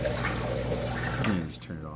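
Water pours steadily from a valve into a 210-gallon reef tank system, a continuous rushing flow that dips near the end as it is shut off.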